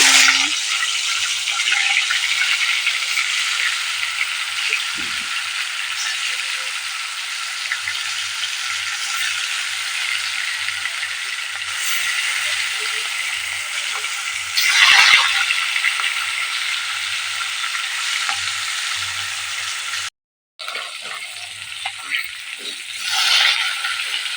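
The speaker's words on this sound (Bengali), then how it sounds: "এখানে তেল আমার গরম হয়ে গেছে আর এক এক করে মাছগুলো আমি ছেড়ে" Fish pieces frying one by one in hot oil, a loud continuous close sizzle lasting throughout, with occasional clinks and rattles of utensils and a brief break near the end.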